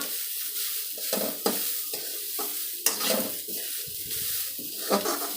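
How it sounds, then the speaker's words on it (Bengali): Vegetables for cutlets frying in a pan, stirred with brisk scraping strokes every second or so over a close hissing sizzle, a few sharper knocks against the pan, no voices. "এইগুলোকে একটু ভাজা করে নিয়ে তারপরে এটা ঠান্ডা হতে দেবো।"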